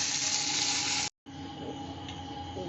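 Chopped garlic, onion and green chili hit hot oil in a pan with a loud, steady, hissing sizzle. The sound breaks off for a split second, then continues a little softer and crackling, close up with no talking.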